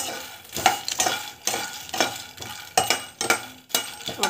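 A pregnancy-diet recipe is dry-fried on a tawa without oil, and it comes through as repeated loud scraping stirs in a steady rhythm over a faint sizzle, with no voices.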